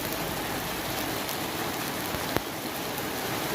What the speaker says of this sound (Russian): А, это капли в экран падают.